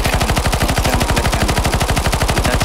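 Automatic gunfire in Counter-Strike 2 zombie escape mode on the ze_sky_fantasy_v1 map: a loud, continuous stream of rapid shots in a steady, even rhythm, heard alone.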